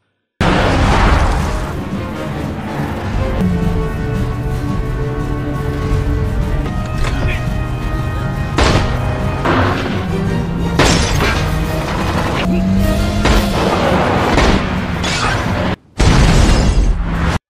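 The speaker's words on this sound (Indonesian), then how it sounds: "Kita lihat aksi baku tembak yang sangat epik ini" A film gunfight plays out as a dense barrage of shots, bangs and crashing impacts over a rumbling score. The sound is loud and continuous, with a brief drop near the end before it bursts back in.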